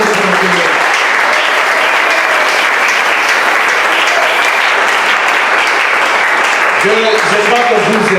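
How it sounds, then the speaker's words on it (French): A church congregation applauds in praise with dense, loud, continuous clapping for the whole stretch, while a voice rises faintly over the clapping near the end. "Applaudissez pour le Seigneur."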